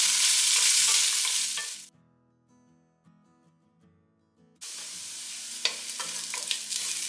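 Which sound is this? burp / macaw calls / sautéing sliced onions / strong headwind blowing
sautéing sliced onions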